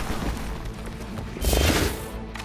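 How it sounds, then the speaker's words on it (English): Iron Man firing in Marvel's Midnight Suns, a dense rumbling blast of weapon fire and booming impact that swells sharply partway through, loud over constant game background noise. "now Iron Man is going to shoot this shit"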